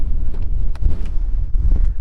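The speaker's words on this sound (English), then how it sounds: "Very windy out today." Gusty wind buffets the microphone with low, loud rumbling blasts that rise and fall.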